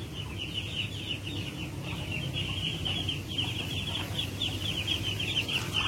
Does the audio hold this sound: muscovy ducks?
yes